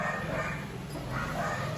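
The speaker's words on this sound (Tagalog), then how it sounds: "Pasensya guys ha, sobrang ingay ng aso." A dog barks loudly and repeatedly at home, amid a noisy, busy background of steady, dense sound.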